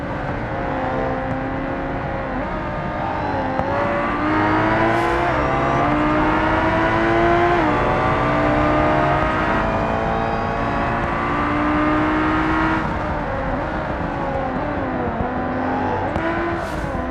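Bolide-class race cars in BeamNG roar continuously at high revs, pitch rising and dipping through gear changes and throttle shifts, a loud sustained engine note heard alone without voices.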